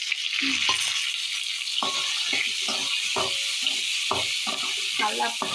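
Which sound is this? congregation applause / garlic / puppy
garlic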